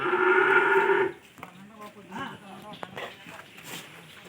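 A cow at a village dairy farm in VB Agraharam, Kakinada district, lets out one loud, close moo lasting about a second, followed by quieter speech from a man and faint farmyard background noise.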